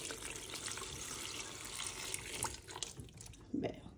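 Water pouring into a small portable mini washing machine holding socks, a continuous close splashing stream with a brief bubbling gurgle near the end.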